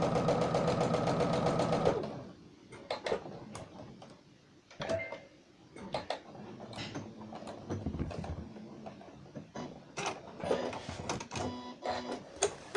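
Sewing machine stitching the top seam of a twin-zipped pouch with separate sides, a close run of mechanical clicks and rattling bursts that start and stop in short stretches.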